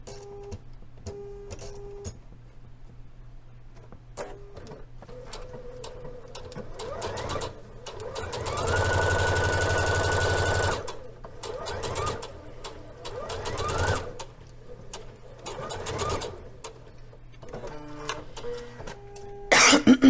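Domestic sewing machine stitching a waistband yoke seam, several short runs of motor whir and needle rattle with one longer sustained burst in the middle, plus coughs and light handling noise between.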